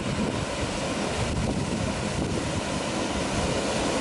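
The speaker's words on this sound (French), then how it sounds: "La rivière tout près du refuge avec deux jolies cascades." A mountain river with two small waterfalls beside a hiking refuge on a GR trail, producing a steady, loud broadband rush of falling water that holds constant throughout with no voices.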